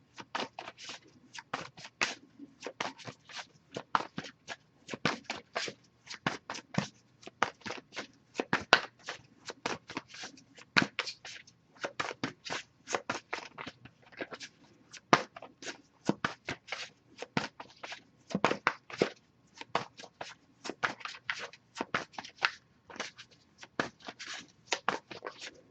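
Continuous hand-shuffling of a tarot card deck, a steady run of soft papery slaps and flicks, close and fairly quiet, with no one talking.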